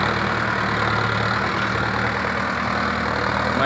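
A Mahindra Arjun 9605 tractor engine runs steadily at close range during sowing in a muddy field, a continuous idling drone with no voices.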